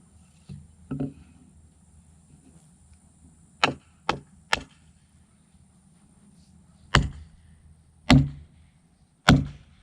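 Wooden stakes are hammered into the ground beside a raised garden bed: sharp, distinct wooden knocks come in small groups with pauses between, outdoors, close and clear, with no talking.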